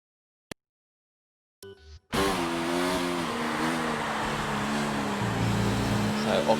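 Open-wheel racing car from a racing game at the German GP, silent at first, then the engine bursts in loud and close, its whine climbing steadily through the gears as it winds up for a lap.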